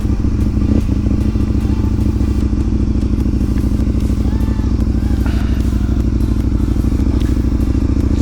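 A motorcycle pulls away from a house in County Kerry in the south of Ireland, its engine running close and loud with a steady pulsing throb and some rattling. Rider's voice is faint beneath it.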